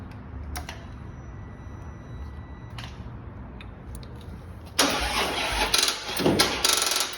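A Harley-Davidson Road King motorcycle engine, part of a custom Copart salvage build, gets its first start: quiet clicks and ticks, then the starter cranks and the engine catches with a loud, rough, uneven rumble.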